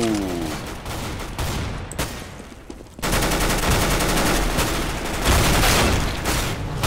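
Shotgun blasts and rapid gunfire in a Counter-Strike: Global Offensive Arms Race match, loud dense bursts filling the whole stretch, with a brief lull before a heavier, continuous volley.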